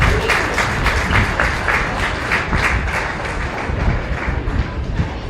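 Crowd applause at a county fair cattle show, a dense, even patter of many hands clapping for the exhibitors, holding steady for several seconds with no talk over it.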